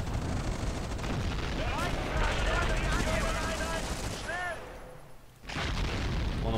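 Bombing explosions in the Company of Heroes strategy game boom and crackle amid dense, continuous battlefield gunfire, loud and heavy throughout with a brief lull near the end.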